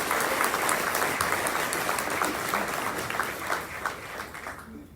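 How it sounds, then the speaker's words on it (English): A crowd at an athletics Hall of Fame and Hall of Honor induction ceremony gives a sustained round of applause. The steady, dense clapping holds for several seconds, then thins and fades out. "How about giving that accomplishment a big round of applause?"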